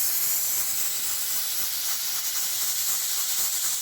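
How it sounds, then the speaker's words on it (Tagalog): A pressure cooker hisses loudly and steadily as steam vents from it during cooking of beef sinigang, a close, continuous rushing hiss with no pauses and no talking. "nakasalang yung pressure cooker"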